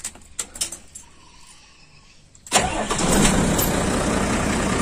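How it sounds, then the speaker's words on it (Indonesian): A car engine cranks and catches after a few light clicks and rattles, then settles into a steady, close idle. "Sekarang, start engine dulu."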